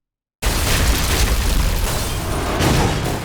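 A real pyrotechnic explosion staged for the Korean film Ode to My Father bursts suddenly out of silence into a loud, sustained roaring boom that rumbles on without easing for several seconds.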